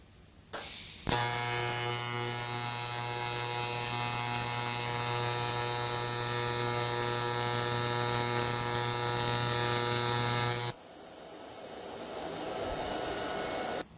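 A welding torch tacking metal gives a steady electric arc hum for about ten seconds, starting and cutting off abruptly, loud and close.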